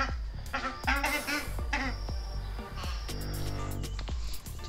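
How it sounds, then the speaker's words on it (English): Ducks honk and quack in a close, irregular series of calls, several loud squawks spread through the clip with some overlap and background noise. "They look like ducks to me."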